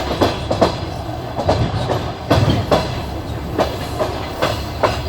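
Passenger train wheels clack steadily over rail joints on the Shevchenkove–Yuzhne to Kharkiv-Passenger stretch, heard from inside the carriage by the window; evenly spaced metallic knocks ride over a constant low rumble of the moving train.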